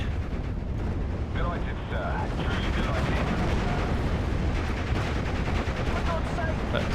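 A StuG assault gun is destroyed in an explosion during a Normandy 1944 battle in the video game Steel Division: Normandy 44, with continuous rumbling blasts and crackling gunfire layered over a dense battlefield din.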